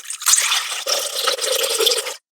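Warm water pours into a bowl of gluten-free vegan pizza dough mix with yeast as a short, close splashing stream of about two seconds, alone and then abruptly stopping.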